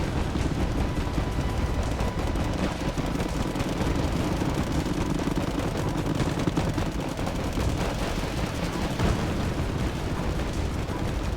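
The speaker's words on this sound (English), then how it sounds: "we got some artillery coming in." Artillery and gunfire rumble continuously on a Wargame battlefield, a dense wash of distant booms and rapid shots layered into a steady roar with no clear gaps.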